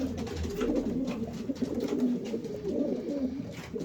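Soft, murmuring coos from several young pigeons overlap in a steady low chorus, close by, with faint rustling underneath.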